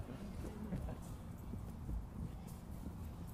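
Horse hooves clip-clop steadily through a staged Richard II production, a continuous, fairly faint trotting rhythm heard at a distance.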